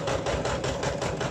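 Sewing machine running steadily to stitch a cloth face mask, a fast rhythmic mechanical whir with regular pulses, close and loud, alone without talk.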